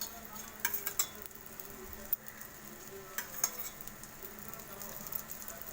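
Sankara fish frying in shallow oil, with a soft continuous sizzle and crackle and a few light clicks and taps from the pan, quiet and close.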